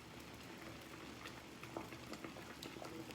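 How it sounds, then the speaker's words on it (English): Homemade bagels boiling in a pot of water, a faint continuous bubbling and gentle popping with small splashes, heard close and alone. "Let them cook for a minute or boil for a minute."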